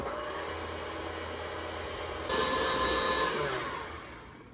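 An electric mixer beats banana bread batter with a steady whirring drone that rises in pitch and loudness partway through, then tapers off near the end. No voices.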